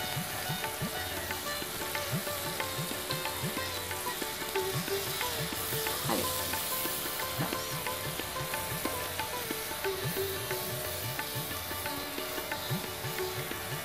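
Gravy sizzles and bubbles in a pan after sugar, salt and water go in, a soft continuous fry with faint stirring and no voices.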